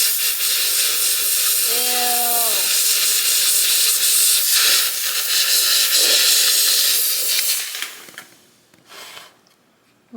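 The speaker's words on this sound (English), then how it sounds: "Now to steam clean the washer machine." A handheld steam cleaner hisses loudly and continuously while cleaning a washing machine, a broad close-up spray with a brief chirping tone early on, fading and sputtering out near the end.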